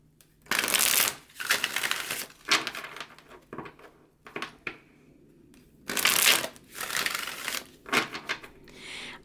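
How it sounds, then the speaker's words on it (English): A Herb Crafters tarot deck is shuffled by hand close up in several bursts of crisp riffling and sliding cards, separated by short quiet pauses, with no talking. "I'm not going to show me shuffling the whole time just because I shuffle for a while"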